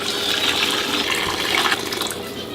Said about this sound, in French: Casserole, vide comme ça.